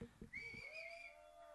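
Crowd whistling at a film song launch event, a single sustained shrill whistle rising over brief chatter and bustle from the audience.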